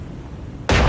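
Secondary guns on the battleship Massachusetts fire in the naval game War on the Sea: a single loud, sharp blast erupts near the end after quiet rumbling background, with no talk.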